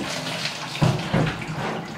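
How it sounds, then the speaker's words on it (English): Warm water pours into a bucket for a gravity-fed colonic setup, a short close splashing gush with two louder surges near the middle, with no talk. "Put the water in the bucket."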